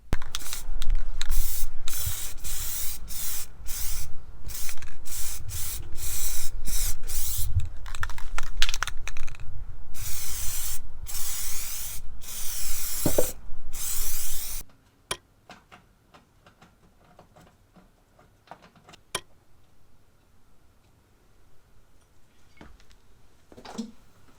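Spray-on tint misted onto a car headlight cover in a DIY job: repeated close, loud aerosol bursts in short pulses for about fifteen seconds, then near silence with a few faint ticks and clicks.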